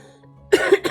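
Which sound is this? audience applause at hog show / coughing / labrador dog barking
coughing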